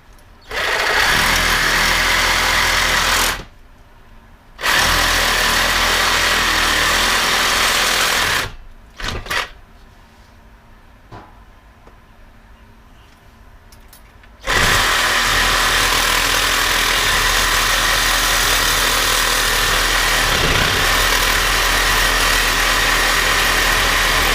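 Power tool, likely a cutoff wheel or grinder, cutting a small metal ring off 4Runner suspension parts in a garage, heard as loud steady whining bursts of several seconds separated by brief pauses.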